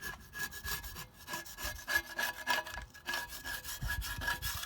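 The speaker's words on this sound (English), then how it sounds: "we're just gonna go around lightly, take the bulk of the gasket off" Someone scrapes the old gasket off a Big Green Egg ceramic grill with steady, rhythmic back-and-forth rasping strokes. The scraping is close and continuous, and no one speaks.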